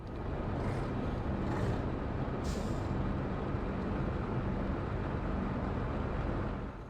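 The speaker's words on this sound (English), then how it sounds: "This guy is asking the truck to stop." A truck in the Hitman video game rumbles steadily at close range, with brief hissing air-brake bursts near the start, ending in a continuous engine drone.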